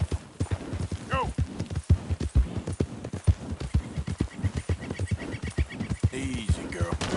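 A horse gallops in a PS4 video game, with rapid steady hoofbeats close by, a brief whinny, and a voice talking over the hooves.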